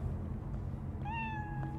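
A cat in the video game Cyberpunk 2077 gives a single drawn-out meow, clear and close, over a steady low background hum.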